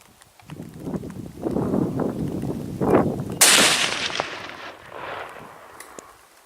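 Rifle shots fired outdoors in an open field, with rumbling blasts that echo and fade across the open air, loud and close, and no talking.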